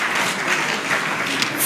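Steady, dense clapping from an audience at a book launch in Ghana, continuous and fairly loud throughout the short stretch, with no talk over it.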